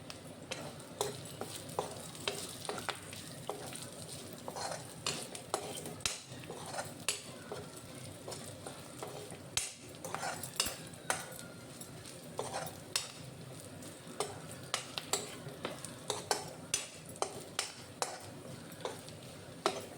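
Chopped green chillies and curry leaves fry in oil in a pan, giving a soft continuous sizzle broken by frequent sharp clicks and scrapes of a spoon stirring against the metal, close and fairly quiet.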